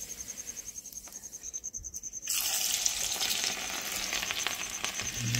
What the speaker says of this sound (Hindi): और ये डाल दिया मैंने इसमें हींग